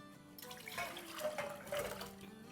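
Potato pieces tipped with their soaking water into a cooking pot, giving a steady pour and splash of liquid that swells and settles over a couple of seconds, fairly close and with no talk.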